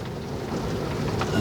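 Steady rain falls outdoors during the first styling of an itagawa juniper, a continuous dense hiss with a low rumble beneath, and no voices.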